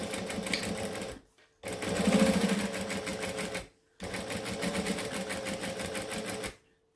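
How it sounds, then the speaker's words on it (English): A sewing machine top-stitches a bag flap at a long stitch length, running in three steady bursts with brief pauses between them, close and clear. "I'm going to top stitch that flap. So I'm on 3 3/4 of a stitch length on my machine"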